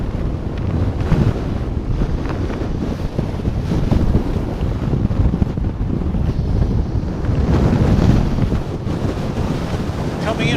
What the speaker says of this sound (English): Now the nice thing here is that we don't have any sand or dust associated with this weather.